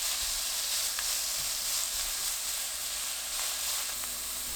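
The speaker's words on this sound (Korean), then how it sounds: "우엉 넣고 2분 볶아주세요." Burdock root stir-frying with oil and minced garlic in a pan over medium heat gives a continuous bright, hissing sizzle, steady and close, with faint clicks of a utensil and no speech.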